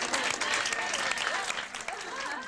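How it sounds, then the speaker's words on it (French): Audience applause from a crowd, steady dense clapping filling the whole moment at moderate level, with faint voices mixed underneath. "Applaudissez, soyez gentils, s'il vous plaît."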